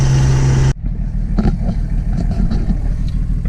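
High-horsepower car engine revving hard after an abrupt cut from a louder sound, a loud close throaty roar with rising and falling pulls.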